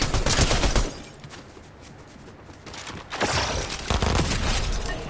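Gunfire in Fortnite: dense bursts of rapid shots in a loud opening volley, a quieter lull, then more sustained shooting toward the end, with no talk.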